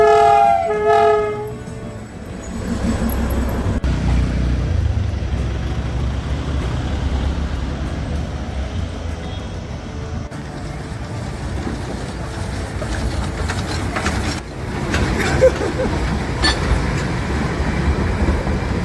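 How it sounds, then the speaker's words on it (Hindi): Darjeeling hill railway train running close by along the mountain road near Darjeeling, a steady loud rumble and clatter with a horn-like tone near the start, continuous throughout. "हमारी पीछे पीछे ट्रेन चल रही है"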